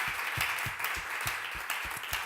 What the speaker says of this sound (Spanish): Así que te damos unos aplausos